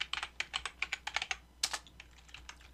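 Quick bursts of keystrokes on a computer keyboard while entering data into an Excel spreadsheet, a run of close, crisp clicks, then a pause and a few more taps, with no one talking.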